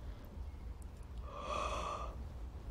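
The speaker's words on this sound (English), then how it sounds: "That says, sorry, excuse me, yawning." A woman's yawn at the scrapbooking table, a drawn-out breathy inhale swelling to a voiced, airy peak and fading after about a second, heard close and alone.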